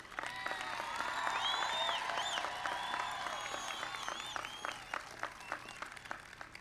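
A crowd at a 1996 presidential campaign rally in Brandon, South Dakota, bursts into sustained applause with some cheering. It is fairly distant and gradually thins to scattered claps.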